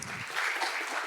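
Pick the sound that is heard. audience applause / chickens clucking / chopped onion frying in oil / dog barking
audience applause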